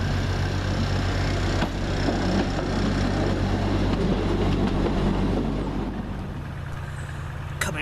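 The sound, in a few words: train coming through station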